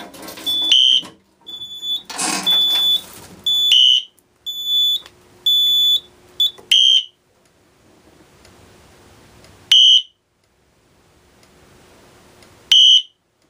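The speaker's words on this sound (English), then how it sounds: "the strobe and the horn are tied together on this device" A fire alarm horn on a two-wire horn-strobe device sounds during a system test, giving loud, shrill electronic blasts in repeated bursts with pauses, then isolated single blasts separated by quiet gaps.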